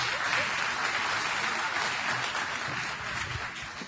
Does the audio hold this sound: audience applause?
yes